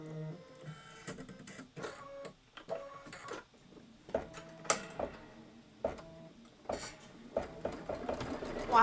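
A home embroidery-style sewing machine stitching a decorative Geometric 8 pattern, whirring in bursts with rapid mechanical ticking and clicking, close and fairly loud, with brief pauses between runs and faint talk in places.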